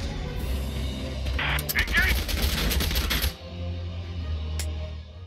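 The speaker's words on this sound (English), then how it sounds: "Two shots." Gunshots in the Valkyria Chronicles 4 video game, a burst of rapid, crackling shots lasting about two seconds with a lone sharp shot afterward, while a voice talks alongside.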